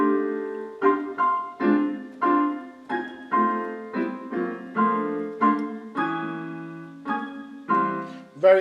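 Jazz piano playing a blues with right-hand octaves plus a fifth, a string of short punchy chords in a swinging rhythm, clear and alone.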